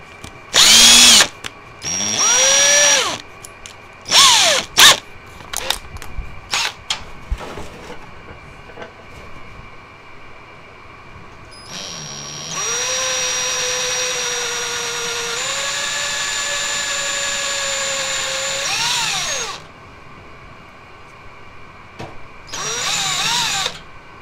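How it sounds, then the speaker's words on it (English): A power drill fitted with cobalt bits bores into aluminum in several loud bursts, short whines at first, then a long steady grinding run that climbs in pitch before stopping, with a final brief burst. "I like these cobalt bits, especially against aluminum."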